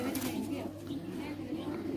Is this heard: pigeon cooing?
yes